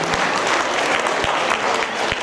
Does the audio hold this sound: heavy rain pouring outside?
no